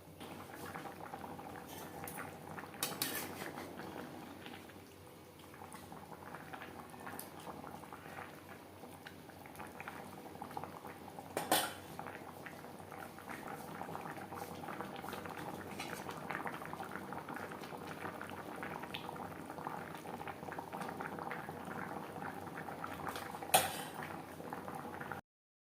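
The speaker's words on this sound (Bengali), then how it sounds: "গ্রেভির সাথে মাছ আরও 3-4 মিনিট রান্না করব।" Rohu fish curry with potatoes and drumsticks bubbling in gravy in a pot, a soft continuous simmer with a few faint clinks of utensils, fairly quiet and without talk.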